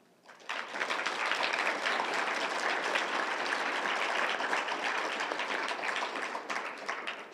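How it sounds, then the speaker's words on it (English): An audience at a literary review reading and launch party breaks into applause: a sudden start, then steady, dense clapping from a crowd of moderate size, sustained with no one talking. "Sorry, I'm making you do all of the clapping."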